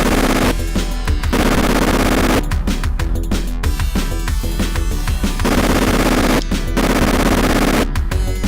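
Rapid machine gun fire in The Terminator on the Mega Drive, harsh loud bursts of synthesized rattling shots in several long volleys over a constant game soundtrack, no voices.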